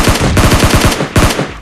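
Rapid automatic gunfire from the PUBG Lite video game, two loud sustained bursts of fast repeating shots, close and alone.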